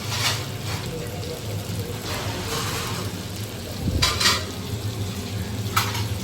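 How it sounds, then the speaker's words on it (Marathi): Prawns and karpali fish frying in a pan, a steady close sizzle running throughout with a few brief clinks and louder bursts, alongside a seafood gravy cooking nearby. "बघा इथं कोळंबी फ्राय होते, करपाली फ्राय होते मस्त रे"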